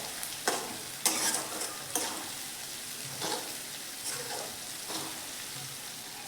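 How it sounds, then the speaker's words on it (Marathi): Green garlic paste sizzles softly in a pan while being stirred and sautéed, with gentle frying crackle and periodic scraping strokes of a spoon, no voices. "हे चांगलं व्यवस्थित परतून घ्यायचं आहे."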